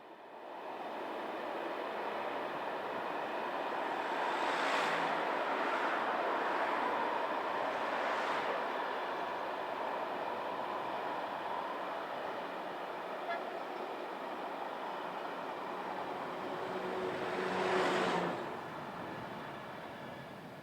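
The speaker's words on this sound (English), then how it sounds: "another container train makes its way down the valley towards Isola del Cantone" A container train rolls down a valley toward Isola del Cantone, a steady broad rumble of wagons passing at moderate distance, with a brief horn-like swell near the end.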